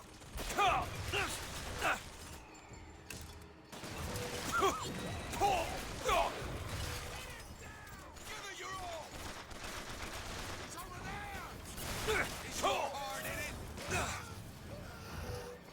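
A turret in BioShock Infinite deploys with mechanical clanks, then fires rapid bursts of gunfire amid loud in-game combat, with voices speaking over the fighting.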